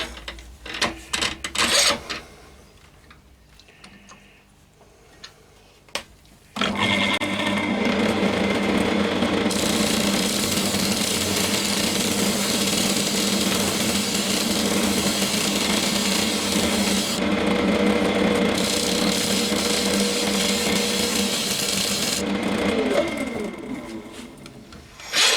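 A woodturning lathe tidies the edge of a turned wooden piece: after some quieter handling, a steady loud whirring hum with a tool scraping the spinning wood runs continuously for about eighteen seconds, then stops.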